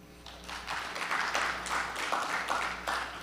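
An audience at a francophone university agency event gives a speaker steady applause, a faint, fairly even patter of clapping heard from a distance.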